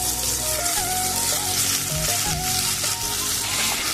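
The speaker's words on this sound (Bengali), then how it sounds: "করলাটা আমি দিয়ে দেবো।" Fried bitter gourd pieces dropped one by one into a pan of cooked-down spices, giving a loud, steady sizzle of frying with stirring and scraping throughout.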